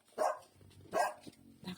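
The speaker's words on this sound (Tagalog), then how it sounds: "Ang ingay naman ng aso ko." A pet dog named Ducky barks indoors, three sharp barks spaced about three-quarters of a second apart, fairly close and loud over a quiet room.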